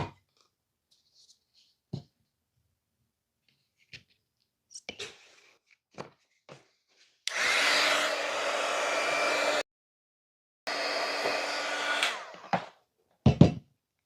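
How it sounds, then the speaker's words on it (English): A heat gun blows steadily on a paper mache ornament in two long bursts of whooshing hot air, separated by a short pause, with scattered handling clicks and taps before and after. "I need to hit that with the heat gun some more."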